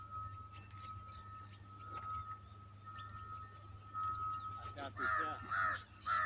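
A crow caws a few times, the harsh calls bunching together near the end over a constant low electrical hum, with faint voices in the background.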